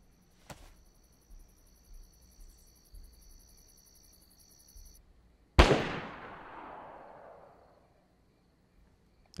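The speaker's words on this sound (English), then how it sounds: "They're shooting again." A single distant gunshot in the survival game DayZ cracks sharply and rolls off in a long echoing tail over quiet outdoor ambience with faint insect-like chirping; a soft thump comes earlier.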